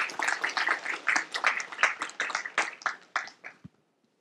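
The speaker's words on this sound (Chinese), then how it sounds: "掌声为他们鼓励一下" A small debate-tournament audience gives a short round of quick, distinct hand claps that thins out and stops abruptly near the end, leaving silence.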